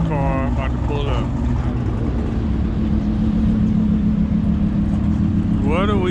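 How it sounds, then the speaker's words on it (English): A car pulls up at a Cars and Coffee meet, its engine a steady low rumble throughout, with voices chattering near the start and again at the end. "Check out this car about to pull up."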